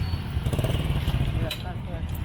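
Motorcycle engine running with its turbo switched on in a parking lot by a public market, a steady close throb throughout, with people talking over it.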